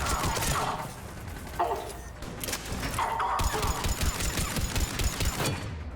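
Close-range rifle fire in the video game Mass Effect 3 rattles out in dense, rapid bursts with a few heavy impacts, loud and continuous throughout.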